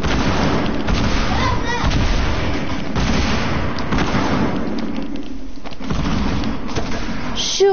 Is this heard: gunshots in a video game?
yes